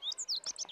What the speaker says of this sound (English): It resembles a sparrow, but it has a larger body and a longer tail.